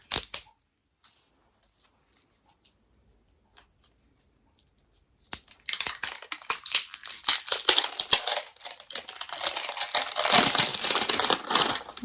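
Foil wrapping crinkles and tears as it is pulled off a Himalayan salt lamp during an unboxing. The loud, continuous crinkling starts about halfway through, after a near-silent stretch with a few faint clicks.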